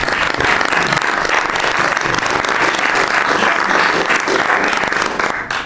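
Loud sustained applause from the room at a presidential cabinet meeting, dense crackling clapping continuing steadily before cutting off abruptly at the end.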